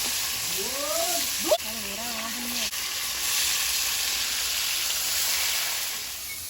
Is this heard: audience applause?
no